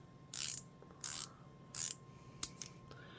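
A Japanese stubby indexable flex-head ratchet clicks in three short bursts of fast pawl ratcheting, then gives a few sharp single clicks as it reverses, close and alone against a quiet background.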